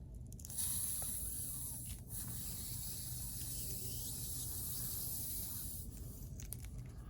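Air escaping from a leaking air hose fitting coated in soapy water makes a steady, close hiss that runs the full length, with no voices.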